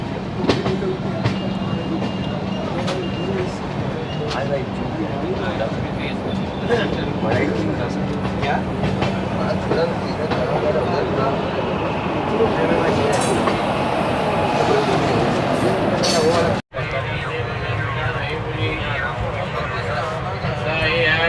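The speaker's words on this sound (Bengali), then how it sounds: "এখন আমাদের ট্রেন মুরাদাবাদ স্টেশনের 3 নম্বর প্ল্যাটফর্মে এসে দাঁড়িয়েছে" Kumbha Express passenger train rolling into platform 3 at Moradabad station, a steady loud rumble of wheels and carriages throughout with people talking under it, briefly cutting out near the end.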